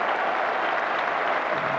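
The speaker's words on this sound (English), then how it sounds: "Huge appreciation from the crowd for that 50 from Small." Crowd applause at an England v Australia Test match at The Oval in 1989, greeting a batsman's fifty: a steady, even wash of clapping that fills the whole moment without pause.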